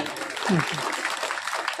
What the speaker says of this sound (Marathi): तुम्ही तुमच्यासाठी एकदा टाळ्या वाजवा